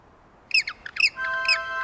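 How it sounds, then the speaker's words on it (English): Cartoon penguin family calls out in a few short, bright squawks and honks around the middle, followed by a sustained whistling tone, set against a quiet background with no speech. "Could that be the sound of Mr. Penguin's family?"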